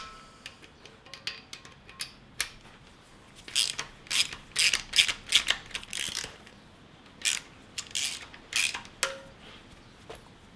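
A ratchet loosens a cam retaining clip bolt during a cam swap, with close, crisp bursts of clicking that come in quick runs separated by short pauses.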